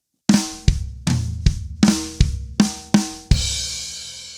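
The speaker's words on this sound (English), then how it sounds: "One more time, I'll add the kick and crash this time." Acoustic drum kit fill of flams, tom and snare hits and kick, ending on a kick with a crash cymbal; seven close, punchy strikes in steady rhythm, the final crash washing out and sustaining, played alone.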